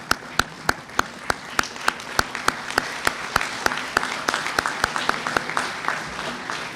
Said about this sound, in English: A huge applause for these students.